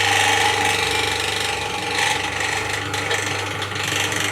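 A BM16 sliding table morticer's chisel and bit boring down into oak, giving a loud, close steady motor hum with rough grinding and rasping scrapes that swell and ease as the cut is pressed, with no talking.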